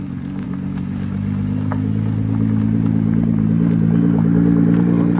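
A sports car engine, likely a Mercedes-AMG GT Black Series, burbles and revs steadily during an Ardennes drive, a loud close rumble that builds gradually with crackling overtones and no talk.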